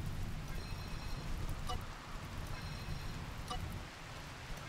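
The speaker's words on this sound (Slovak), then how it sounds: "Prší." Steady rain in the RimWorld video game, a dense even hiss of falling drops with a low rumbling bed, continuous and fairly close throughout, no voices.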